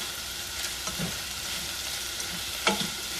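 Sliced vegetables for Jamaican escovitch fish sizzling in a pan, a fairly quiet, even hiss with a couple of light stirring knocks and no talking.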